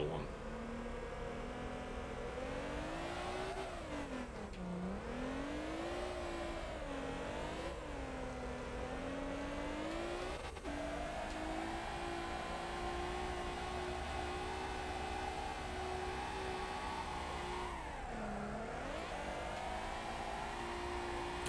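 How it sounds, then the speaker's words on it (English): A car engine in the Motor Town driving game revs hard during a clutch-kick drift, with its pitch sweeping down and back up several times against a steady high whine. A voice talks over the engine throughout. "There's another clutch kick right there to keep the RPM up, the speed up, keep the drift up."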